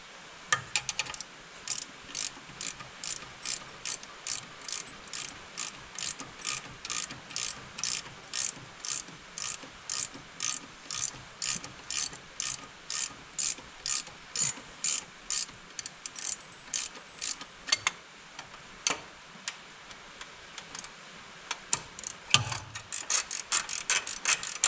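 A ratchet clicks in rapid repeated bursts while belts are tightened, with sharp mechanical pawl ticks in steady rhythmic runs and short pauses, close and clear with no talking.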